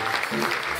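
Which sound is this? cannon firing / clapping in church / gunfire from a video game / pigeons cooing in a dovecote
clapping in church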